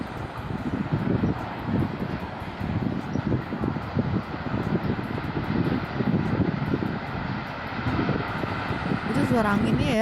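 Tornado winds roaring over Rancaekek, Indonesia: a steady, loud rushing roar with low gusting rumble that persists throughout, with a voice briefly heard near the end.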